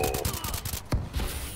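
STG rifle gunfire in Call of Duty: Advanced Warfare, a rapid burst of close automatic shots followed by a louder single crack and a few more shots, with a faint voice in the background.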